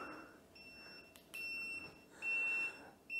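Electronic beeps from a Ninebot Max G2 electric scooter's turn signal: a few steady high-pitched tones, the longer ones clear and loud, over a faint background.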